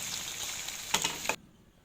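Tiny river fish frying in oil with crushed whole garlic, a steady close sizzle that swells with a few louder bursts before cutting off abruptly.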